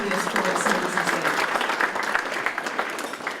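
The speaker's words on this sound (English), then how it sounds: "So you can give yourselves a round of applause." An audience at a Small Business Week breakfast gives a sustained round of applause, dense, even clapping from many hands filling the room at steady volume throughout.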